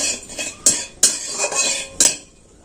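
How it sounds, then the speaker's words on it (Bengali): A metal spoon stirs black cumin seeds in oil in a pan, giving several bright scraping clinks against the metal at irregular intervals, close and fairly loud, with no talking. "দিয়ে দিচ্ছি কালো জিরে এটা আমি নাড়াচাড়া করে নিচ্ছি"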